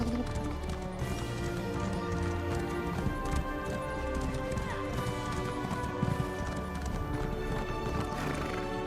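A horse gallops in The Elder Scrolls Online, a steady rapid clip-clop of hooves with a whinny, mid-loud and continuous over faint game background.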